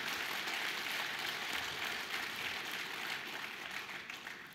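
An audience at an investors' round table closing ceremony in the Central African Republic applauds steadily, a dense sustained patter of many hands clapping that fades slightly toward the end.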